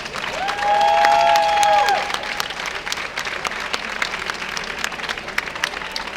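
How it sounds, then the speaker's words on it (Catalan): A crowd at an outdoor political rally applauds LGBTI organisations and groups, with sustained clapping and some cheering, and a bright whistle-like tone sounding over it early before the clapping settles to a steady level. "Un fort aplaudiment per totes elles."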